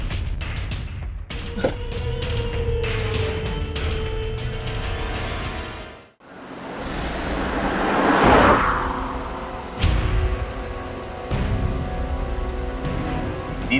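A car engine hums and revs steadily, dips briefly to near silence mid-way, then returns with louder rushing road noise and occasional knocks, fairly close throughout.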